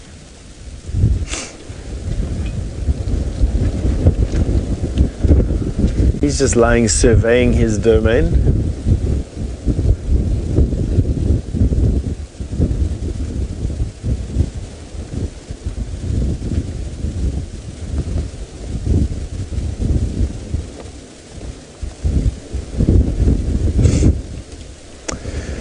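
Wind gusts rumble and buffet the microphone continuously in dry October South African bushveld at dusk while someone speaks, with a brief chirping call partway through.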